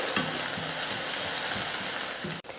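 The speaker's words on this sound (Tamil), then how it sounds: "வெங்காயம் பச்சை மிளகாயெல்லாம் வதக்கிட்டு அதுக்கப்புறம் மற்றதை சேர்த்துக்கலாம்" Onions and green chillies sauté in a pan, giving a steady loud sizzle from start to end. Soft scraping stirs sound through it, and a brief break comes near the end.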